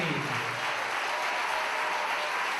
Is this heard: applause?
yes